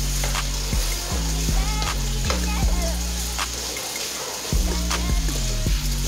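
Cube steaks sizzle and crackle loudly as they fry in a pan, a dense, continuous hiss with occasional spattering pops and no talking.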